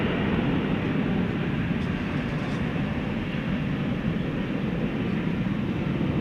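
Steady, heavy roar of an American Airlines Boeing 777-300ER jet taking off at DFW Airport, a broad continuous rumble heard from a distance with no pauses.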